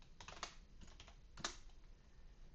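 Typing on a computer keyboard while entering an AutoCAD command: a few clustered bursts of key clicks at close range, separated by short pauses, with no talking.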